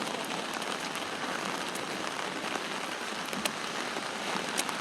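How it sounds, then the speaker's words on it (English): Steady rain pattering on surfaces outdoors around a downtown retention pond, a dense continuous hiss with scattered sharper drops, no voices. "I think the heaviest part of the rain might be over now"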